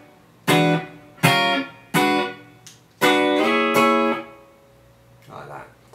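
Funk guitar riff, played as bursts of chords with slides and upstrokes: four loud strummed stabs, then a fainter trailing figure.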